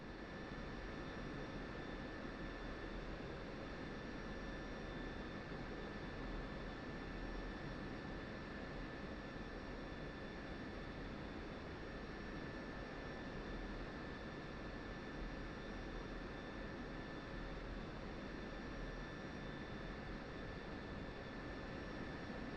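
Steady jet engine drone from a taxiing aircraft in DCS World at night, a broad constant roar with faint high whines, unchanging and without speech.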